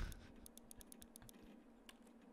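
Computer keyboard typing from the video game Everlasting Summer, a quick faint run of key clicks followed by a single later tap, soft over quiet background.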